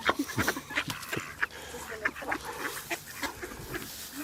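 Ducks by a river quack repeatedly nearby in an irregular, busy chatter while being hand-fed, with some background activity and light talk mixed in.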